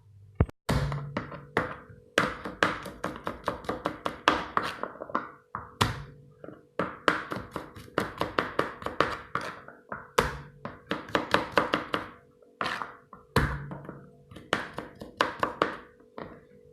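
A knife chopping garlic on a board makes rapid, rhythmic knocks in repeated bursts separated by brief pauses, close and clear.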